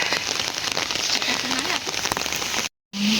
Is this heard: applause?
no